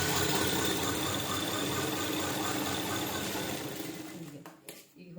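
Sewing machine running a continuous stitch along the folded double strip of a round lining blouse, a steady dense motor whir that fades and stops in the final second.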